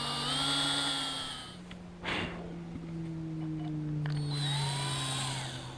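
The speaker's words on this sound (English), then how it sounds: "drill some pilot holes in the top for the galvanized lag screws" A cordless drill bores pilot holes through the top of a 2x4 wooden gate frame for galvanized lag screws, whining steadily in two close bursts separated by a brief pause, loud and without talk.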